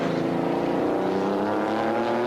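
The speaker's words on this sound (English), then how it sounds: "Hence the rather rough-sounding note. It's actually because they're having to use incredibly low revs to get this car around the corner." A 1995 Porsche GT race car at the Linas-Montlhéry circuit, stuck in fifth gear, labours at very low revs with a rough, throbbing engine note, loud and close, climbing slightly in pitch.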